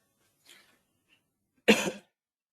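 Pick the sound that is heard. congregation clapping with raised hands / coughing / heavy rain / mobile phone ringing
coughing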